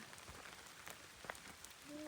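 Rain falls faintly during a mountain outing in Hokkaido, Japan, a soft, even patter with scattered small drips. A brief muffled knock is heard near the end, and the whole scene stays quiet and distant.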